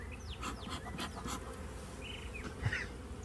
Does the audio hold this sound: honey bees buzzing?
yes